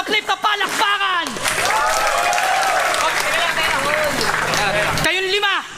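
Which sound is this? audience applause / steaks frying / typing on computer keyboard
audience applause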